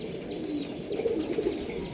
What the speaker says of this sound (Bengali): আজ এই চারটে পায়রা এখানে বুকিং হবে